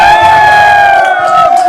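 Big election-rally crowd in Sikar at night cheering loudly, a sustained roar of many voices with a high whistle-like tone running through it, close and continuous for under two seconds.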